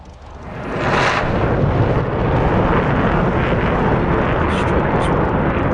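Aircraft engine roaring up for takeoff in a combat flight simulator game, a loud steady broadband rumble that swells over the first second and then holds, with people talking over it.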